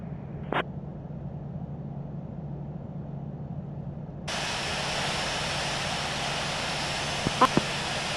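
A simulated aircraft taxis to parking at Auckland airport after a Sydney flight in a flight simulator, its engine a steady low drone that brightens into a broader hiss midway, with a few brief clicks near the end.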